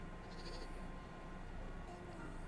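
A goat in the middle of a temper tantrum bleats over low background noise, with a faint voice mixed in.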